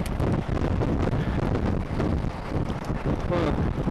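Strong headwind batters the microphone in a dense, continuous roar of buffeting gusts that covers the whole stretch at close range.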